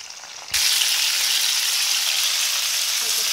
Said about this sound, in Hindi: अब आपने इनको स्लो आँच पे ही फ्राई करना है, ज़्यादा ऑयल में फ्राई नहीं करना।